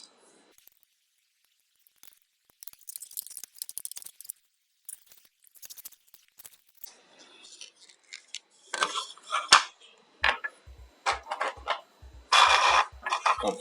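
Two small screws being driven into a plastic part of a 1/8-scale Eagleaoss Ghostbusters Ecto-1 proton pack model kit, heard as close, sparse clicks and scrapes that give way to denser, louder bursts of ratcheting, rattling handling noise.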